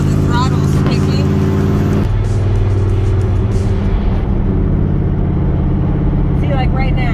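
A 1971 Chevrolet El Camino V8 idles high with the throttle held open at about 2,000 RPM while cruising: a steady loud low rumble heard from inside the cab, with a brief shift in pitch partway through.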